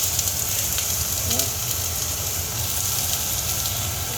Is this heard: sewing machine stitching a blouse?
no